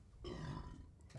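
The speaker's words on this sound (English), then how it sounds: "I interject stories with a burp usually" One long, low, rumbling burp from a man, loud and close, drawn out for about a second with no talk over it.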